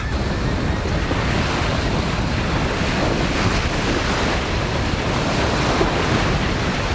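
Waves wash steadily onto a beach at Fisherrow, Musselburgh, Scotland, their rushing surf mixed with strong wind buffeting the microphone.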